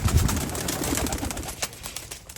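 Caged pigeons coo in soft, repeated throaty calls, several birds overlapping at close range against faint background noise.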